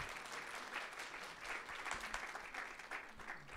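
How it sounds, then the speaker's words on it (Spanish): An audience claps for several seconds, a steady, fairly close round of applause at a community gathering. "Sí, un aplauso para Arturo."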